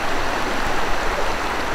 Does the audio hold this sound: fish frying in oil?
no